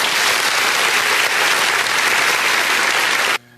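Dense, loud applause from a crowd fills the whole stretch at a steady level, then cuts off abruptly near the end, leaving near silence.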